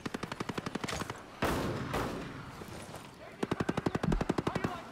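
Rapid automatic gunfire in the shooter game Ghost Recon Breakpoint, loud close bursts of evenly spaced shots at the start and end with a louder blast and rumble between.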